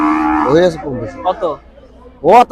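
Bulls at the Noymile cattle market in Chuadanga give several loud, close moos in a row, with short pauses between the calls.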